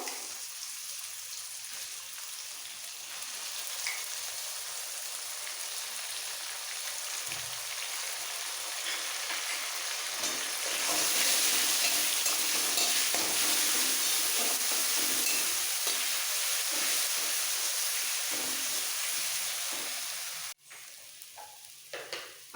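Grated raw mango frying in a hot pan for mango rice, a constant dense sizzle that swells midway as it is stirred, ending with a brief scrape of the spoon.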